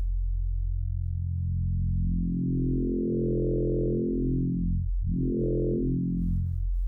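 A smooth, steady synthesizer drone from a wavetable synth in Ableton Live set to emulate frequency modulation, its harmonics sweeping upward and back down twice in a bending, metallic glide, loud and alone.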